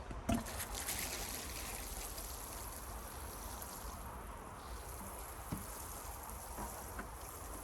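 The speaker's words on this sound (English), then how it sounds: "Last but not least, we're going to water them in." Water trickles and pours from a can onto newly planted leeks on an allotment, a steady soft splashing stream with a couple of small knocks, no talk.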